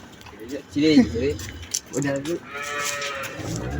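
A cow, its calf still suckling, moos in two deep drawn-out calls at close range, with livestock sounds and background noise filling the gaps.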